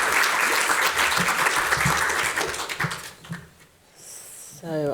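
Audience applause welcomes a speaker to the lectern at a museum lecture, a dense steady clapping that thins and fades away toward the end as a voice begins.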